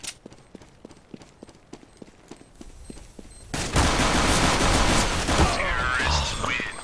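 Gunfire from the Counter-Strike: Global Offensive video game: a run of evenly spaced sharp single shots, then a loud continuous burst of automatic fire with clattering mechanical noise.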